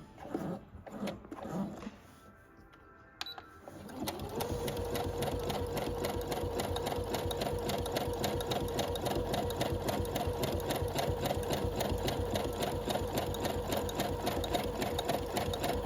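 Brother sewing machine stitching double-needle embroidery, starting after a few seconds of quiet handling and then running as a steady, loud, fast mechanical whir with a regular rapid needle rhythm to the end.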